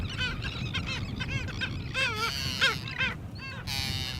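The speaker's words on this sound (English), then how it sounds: "there's now a number of birds that use these salt ponds for" Birds call repeatedly at salt ponds beside San Diego Bay, a chorus of harsh, honking and cawing cries in irregular bursts over a low outdoor background.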